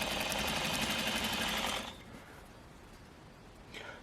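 A sewing machine stitching a skirt runs with a loud, steady mechanical whir for nearly two seconds, then stops, leaving quiet handling sounds and a faint brief noise at the end.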